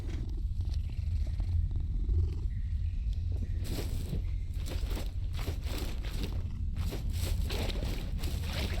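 Cat purring while being petted in the game Mortal Shell, a low continuous rumble that stays steady throughout, with rhythmic rustling bursts on top in the second half.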